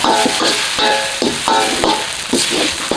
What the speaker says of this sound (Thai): เราก็จะผัดให้ อ่าใบกะเพราสลดนะครับ